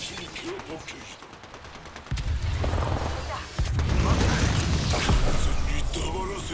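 Apex Legends gunfire played on mouse and keyboard: bursts of rapid automatic shots and heavy booms, loud and close, growing denser halfway through, with game voices over them.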